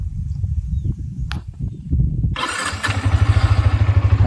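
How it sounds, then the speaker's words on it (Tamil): A Yamaha R15 motorcycle starts up: a low, rumbling idle-like murmur gives way to a sudden catch of the engine, which then settles into a loud, steady, rhythmically pulsing idle close by. "இப்போ பாருங்கள், வண்டி ஸ்டார்ட் பண்ணிடலாம்."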